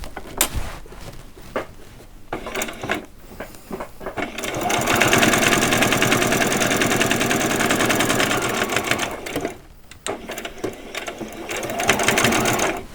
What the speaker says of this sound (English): do a little back stitch, and then I'm going to turn it and come all the way back up again